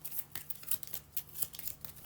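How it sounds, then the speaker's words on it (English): A few playing cards are shuffled by hand during a board game, a quick run of light, close riffling flicks and soft scrapes in rapid succession. "Well, I'm doing a wee bit shuffle here the now."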